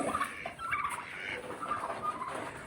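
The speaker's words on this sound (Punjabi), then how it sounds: "ਟਰਕੀ ਨੂਰੀ ਫੇਰ ਲਿਬੜ ਗਈ" A turkey gobbles in short bursts of warbling calls, fairly faint, over a hissy background with no one talking.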